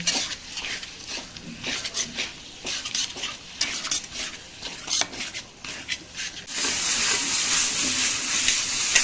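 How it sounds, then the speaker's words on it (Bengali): Chicken mince is stirred in a pan with rhythmic scraping and rubbing strokes over a sizzle, which swells into a louder, continuous hiss near the end. "এবার দিয়ে দেব চিকেন কিমাটা, কিমাটা দিয়ে ভালো করে নাড়াতে হবে"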